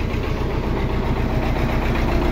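An MTZ 82.1 tractor diesel engine runs steadily after a cold start in frost, with a loud, close, continuous idle and an even low knocking throb.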